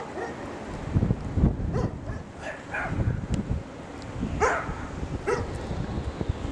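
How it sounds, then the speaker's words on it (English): Several dogs bark intermittently at a distance, sharp yaps rising over steady wind noise buffeting the microphone. "There's the neighbor's dogs."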